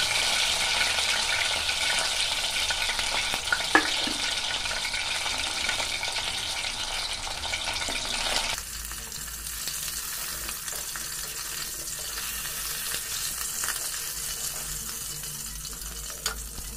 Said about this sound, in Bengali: আমি মাছগুলোকে হালকা করে ভেজে নেব।